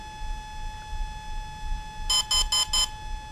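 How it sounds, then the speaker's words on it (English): A hobby RC electronic speed controller, an Exeed Proton or Volcano, emits four short, crisp setup beeps in an evenly spaced burst near the end, following a low steady hum; no one speaks. "and that four beeps, and those are short beeps."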